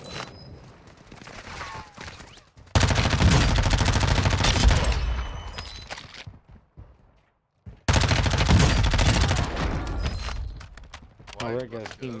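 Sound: gunfire from enemies in a video game

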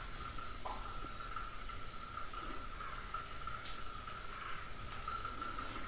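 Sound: masala with turmeric and chilli powder sautéing in oil

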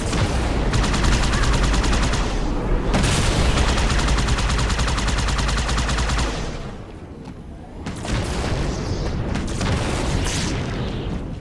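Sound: gunfire in Halo 2 video game

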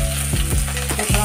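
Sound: ginger and green chili frying in oil

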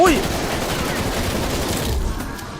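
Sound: gunfire in video game Call of Duty Black Ops Cold War zombies

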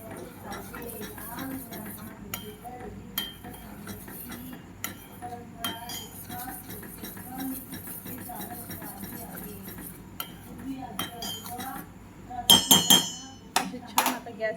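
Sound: spoon stirring homemade cerelac porridge in a pot

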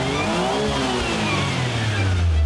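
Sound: Mazda Autozam AZ-1 car engine revving

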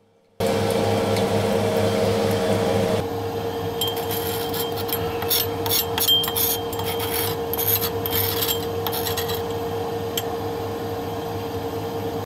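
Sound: spatula scraping yellow paste in glass funnel

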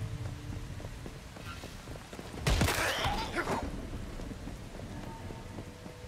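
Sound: rain and thunder in a post-apocalyptic video game

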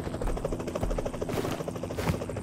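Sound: helicopter arriving in PUBG Mobile video game

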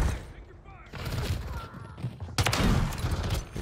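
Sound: pistol gunshots in a video game

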